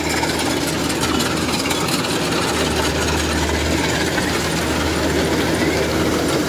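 Kubota DC93 combine harvester engine runs at a steady, loud, close drone with a deep low rumble and constant mechanical hum, unbroken throughout.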